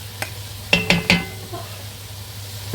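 Onions dropped into a hot frying pan for marinated beef, giving a few sharp clattering hits and a brief hiss that settles to a faint low sizzle, close by with no talking.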